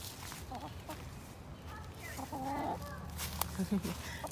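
Backyard hens in a coop cluck and murmur in short uneven bursts, with a couple of louder squawks near the end, close by over a low background hum while a person speaks.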